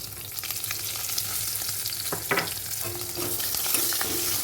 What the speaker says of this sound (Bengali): এবার আমি কেটে রাখা পেঁয়াজ আর কাঁচা লঙ্কাটা দিয়ে দেবো